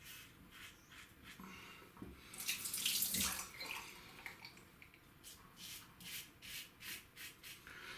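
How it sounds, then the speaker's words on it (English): A shaving brush swirls soap into a lather in a bowl, making soft, wet rubbing and swishing strokes in a repeating rhythm, close but fairly quiet, with one louder brushing burst midway. "I did want to demonstrate how I bowl lather"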